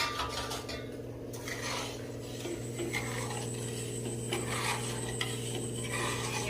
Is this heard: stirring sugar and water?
yes